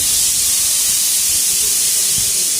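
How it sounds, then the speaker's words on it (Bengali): A pressure cooker whistles as curry cooks for lunch, giving off a loud, steady hiss of escaping steam close by. "মায়ের ঝোলের সিটি পড়ছে"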